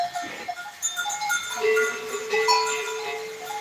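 Goats bleat on a farm, including an old nanny and a first-time mother after her first kidding, with several overlapping cries, some near and drawn out, and a faint clink like a bell in the background.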